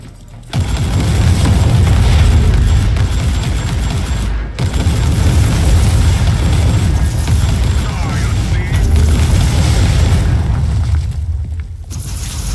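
Heavy bolter fire from the Warhammer 40K Inquisitor video game on an extermination mission, a loud, dense, continuous barrage of booming shots and blasts filling the whole stretch, briefly dropping out once midway.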